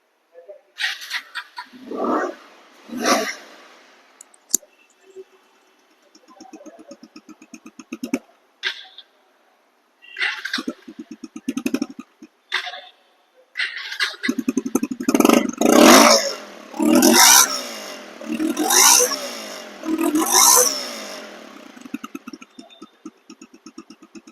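A 2023 Bajaj Pulser dual-disc ABS motorcycle engine starts and idles, then revs repeatedly in rising and falling bursts, close and loud, with short pauses between the earlier revs.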